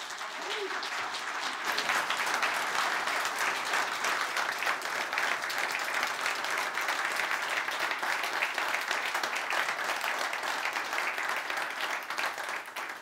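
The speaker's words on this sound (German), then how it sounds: "das ist dein Applaus" Sustained, loud applause from a large crowd, a dense even roar of clapping that holds steady throughout and fades slightly at the end.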